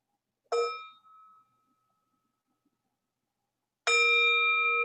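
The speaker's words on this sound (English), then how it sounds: "why don't we listen to a sound of the bell" A meditation bell rings twice: a clear struck tone that fades over about a second, then after a long silence a second strike that rings on sustained to the end.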